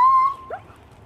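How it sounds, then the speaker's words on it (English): A police dog lets out a short, high whine followed by a brief second yelp, close and fairly loud against a quiet background. "The dog seems to want a piece of me."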